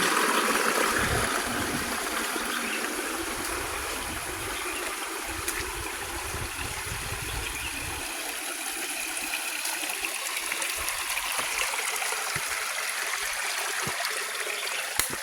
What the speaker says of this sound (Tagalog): Lagaslas ng tubig.